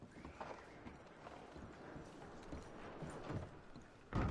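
Horses clip-clop and whinny in the Red Dead Redemption 2 game, hooves thudding at a steady walking pace amid outdoor ambience, with a louder burst near the end.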